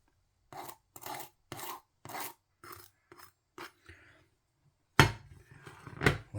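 A crispy top crust on a chicken pie being scraped in a series of dry, rasping strokes, about eight short scrapes in a steady rhythm followed by louder, longer crunching, close up.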